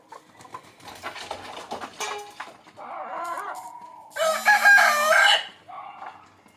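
Country-breed chickens cluck and scuffle nearby as the coop is opened in the morning, then a rooster lets out a loud, long crow close by before the clucking resumes.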